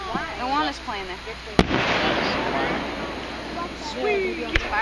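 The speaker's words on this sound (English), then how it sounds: "Sweet! Fireworks." Fourth of July fireworks over Stroudsburg and East Stroudsburg, Pennsylvania, in 2012: two sharp, booming bursts go off a few seconds apart, each with a trailing crackle, under steady nearby crowd chatter and people talking.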